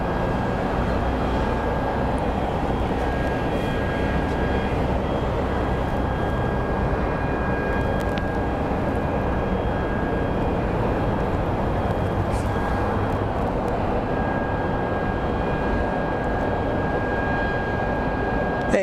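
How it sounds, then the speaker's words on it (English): American Airlines flight 1769 coming in to land at Phoenix Sky Harbor International Airport: a loud, steady jet roar that fills the whole stretch without easing, with a faint high whine on top. "our next plane that's going to be arriving is going to be American Airlines 1769"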